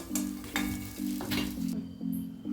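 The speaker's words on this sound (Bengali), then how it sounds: "দেখুন ভাজা হয়ে গেছে। এরপরে আমি নামিয়ে নিচ্ছি" Dahi vada lentil fritters fry in hot oil with a close, crackling sizzle, overlaid by rhythmic scraping strokes of a spoon or slotted ladle turning them in the pan.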